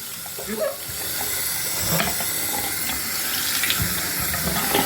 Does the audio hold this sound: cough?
no